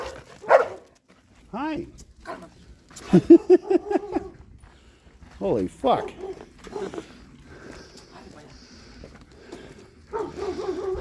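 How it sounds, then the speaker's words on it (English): A dog barks at a gate in several loud, close bursts with some whimpering yips between them, while someone talks and exclaims over the barking. "That dog is not normally one that gets out"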